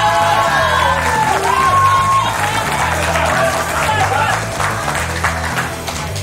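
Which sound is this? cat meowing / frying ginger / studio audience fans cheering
studio audience fans cheering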